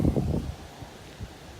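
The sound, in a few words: wind blowing by a bass pond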